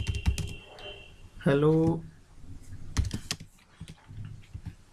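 Rapid clicks of a computer keyboard as HTML and PHP code is typed for a login page, in uneven bursts that run close and clear around a brief stretch of talk.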